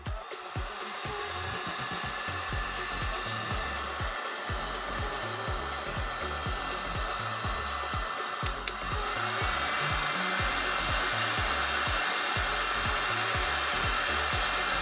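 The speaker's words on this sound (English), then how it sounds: "we're kind of just pointing the heat gun at it and..." Heat gun blowing hot air onto heat shrink tubing gives a constant loud, even whoosh with a steady motor whine, stepping up slightly in strength partway through; no one speaks.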